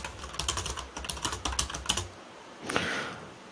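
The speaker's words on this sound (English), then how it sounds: "let me type the message right here" Keys on a computer keyboard clatter in quick, uneven strokes for about two seconds, then stop. One softer rustle follows, close and fairly quiet, with no voices.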